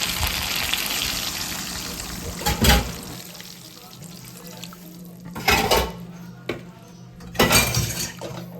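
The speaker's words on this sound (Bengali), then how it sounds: "এবার এর মধ্যে অ্যাড করে দেব জল" Water poured into vegetables cooking in oil for a Bengali shukto sounds in three separate splashing, hissing bursts with quieter kitchen noise between them, close by.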